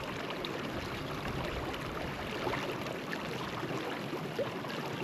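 Water runs and trickles steadily into a bag at a backcountry source, a continuous close gurgling wash that holds an even level with no talking.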